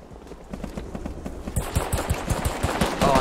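Rapid automatic gunfire in an online shooter game, a steady burst of close, punchy shots that grows louder and denser partway through, with faint game ambience behind it.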